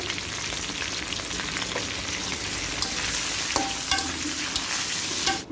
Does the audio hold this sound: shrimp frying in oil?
yes